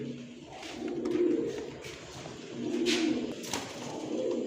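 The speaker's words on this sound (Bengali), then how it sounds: "অনেক সুন্দর টকটকে এই চিলা কবুতরে কিন্তু ভাই উড়ে ভালো" Chila pigeons coo softly in a loft, with about three rounded, rolling coos that swell and fade at a steady, unhurried pace, plus faint background rustles.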